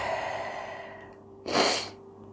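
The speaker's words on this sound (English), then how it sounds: "Sorry, I sneezed." Quiet breathing gives way to a single short sneeze, close and abrupt, then the room falls hushed again.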